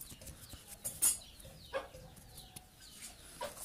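Chickens cluck intermittently in short bursts, fairly faint, against a quiet outdoor background.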